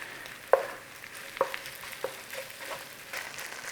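Beef mince fries in a pan with taco seasoning, a soft steady sizzle broken by a few sharp scrapes and knocks as a utensil stirs and presses the meat.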